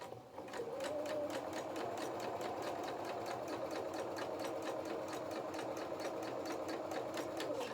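Sewing machine stitching a seam on a donkey toy's body, a steady fast needle rattle running without a break, quiet but continuous, with no voices.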